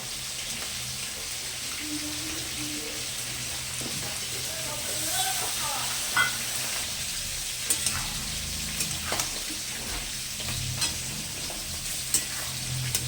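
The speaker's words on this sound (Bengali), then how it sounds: "মোটামুটি ভাজা হয়ে গেছে, এবার আমি মশলাটাকে দিয়ে দিচ্ছি।" Potatoes are stir-fried with spices such as cumin powder, turmeric, green chilli and ginger paste, giving a constant crackling sizzle with intermittent scraping and a few sharp clinks of the utensil against the pan.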